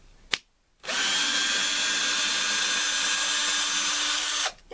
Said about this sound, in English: And then just drill through with your drill.